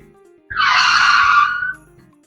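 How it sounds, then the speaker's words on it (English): A car braking sound effect from the Corel VideoStudio effects library: a loud, sustained tire screech lasting just over a second, rising sharply and then fading, heard on its own. "we have car backing or car braking"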